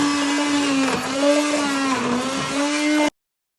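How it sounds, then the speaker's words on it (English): A hand blender whirs loudly and continuously at close range, blending tomato and red pepper soup, its motor pitch wavering slightly as it churns, then cuts off abruptly. "get your hand blender and you want to blitz it so it goes nice and smooth"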